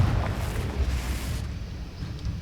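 A Confringo spell explosion in the Hogwarts Legacy video game: a loud, close, roaring rumble that holds steady, then thins out after about a second and a half.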